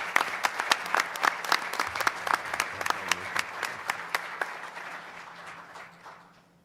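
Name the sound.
audience applause for the Educator of the Month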